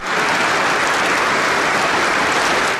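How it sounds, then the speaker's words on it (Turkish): Thousands of lawyers gathered outside the Bakırköy courthouse in Istanbul clap in protest, producing a loud, dense and continuous wash of applause from a large crowd that holds steady throughout with no voices breaking through. "Avukatlar saldırıyı alkışlarla protesto etti."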